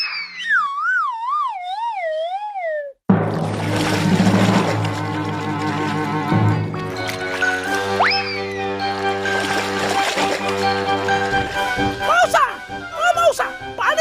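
A greedy cartoon dog barks and yelps in an animated comedy, short loud barks mixed with music and siren-like sliding tones, with a voice talking alongside.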